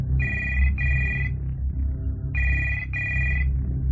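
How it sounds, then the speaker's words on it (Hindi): A telephone rings at a hotel room service desk in two paired bursts of bright electronic trills, with a low rumbling hum beneath and a brief pause between the pairs. "यहां पर हर रात रूम नंबर 113 से फोन आता है"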